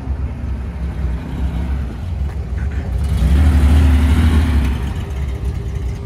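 A classic Porsche 911 passes on a race circuit, its engine note swelling from a distant drone to a louder, nearer roar midway before easing off again.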